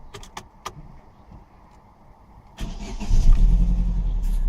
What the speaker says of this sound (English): So let's see if this vehicle starts.